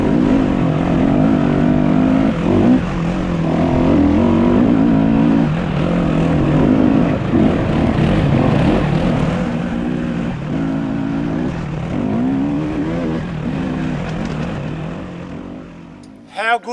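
A 2020 Yamaha WR250F enduro motorcycle revs and labors up a rocky, root-strewn trail, its engine note rising and falling steadily at close range, with a voice talking over the riding.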